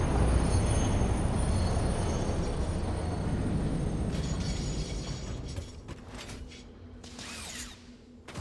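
A train rides along in the video game Satisfactory, a dense rumbling and rattling of wheels and mechanisms that gradually fades and thins out toward the end, with a few metallic squeals and clanks; no talking.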